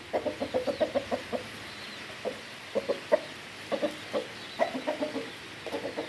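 A rooster clucks steadily in short, rhythmic clusters of low clucks, close by, with faint outdoor ambience and no talking.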